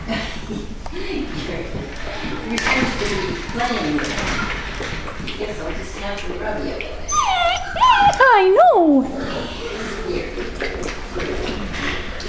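Seven-week-old puppies whimper and give high, wavering yips close by, with a brief burst of louder squeals among shuffling, while someone talks to them throughout.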